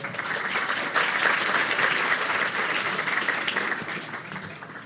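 Audience applause at a grade 7 and 8 poetry recitation, a steady wash of many hands clapping that holds for several seconds and tapers slightly at the end, with no talking over it.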